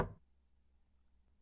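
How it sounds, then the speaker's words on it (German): A single sharp knock on a door, loud and close at the start, then dying away into near silence with a faint low hum. "hat an die Tür geklopft"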